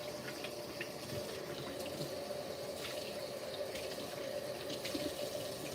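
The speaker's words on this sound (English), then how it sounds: "Sorry for the water noise" Water runs steadily from a kitchen tap into a sink while hands are washed, a constant close rushing splash with small shifts in the flow and no talking.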